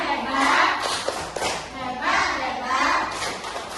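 Young pupils chant and clap the tepuk hebat routine for a classmate named Faza, a bright rhythmic patter of hand claps mixed with children's voices, moderately loud and steady.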